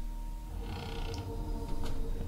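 A door creaks open in The Witch's House video game with a low, drawn-out creak over a steady hum.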